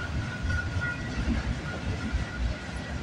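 A freight train of auto racks rolls past at Bartlett Avenue in Toronto with a steady, loud rumble and low rattling wheel noise, continuous throughout.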